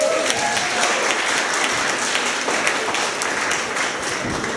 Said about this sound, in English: can we please give another round of applause for Team delockr?